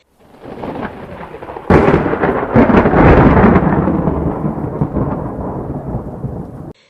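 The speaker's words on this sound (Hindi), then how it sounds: "तेज हवा, बारिश की बूंदें और बिजली की चमक" Thunderstorm with strong wind and rain, a loud thunderclap breaking in after a steady rain rush and rolling on for several seconds, no voices.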